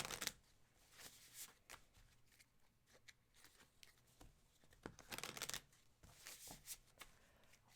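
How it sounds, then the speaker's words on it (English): Crisp riffling bursts of tarot cards being shuffled, several quick flurries spread across the clip, close and fairly quiet with pauses between. "I've already shuffled them a little bit, I think."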